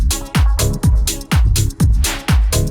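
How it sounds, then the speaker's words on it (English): A deep house track plays unequalized, with a heavy, punchy kick drum hitting on a steady beat about every half second over booming bass and bright synth layers. "So here's what this track sounds like without any EQ."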